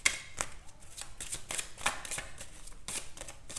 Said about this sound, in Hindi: let me also pull some oracle cards about your current situation